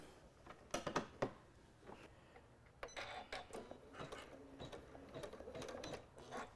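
A home embroidery sewing machine stitches the green layer of an appliqué Christmas ornament, its rapid mechanical clatter running in short bursts and then steadily, close by and moderately loud.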